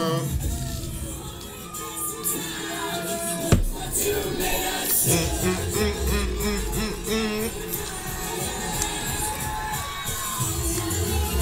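A huge outdoor festival audience at a 2023 Coachella set cheers, shouts and sings along over loud music, a continuous roaring wall of voices with whoops and a couple of sharp peaks.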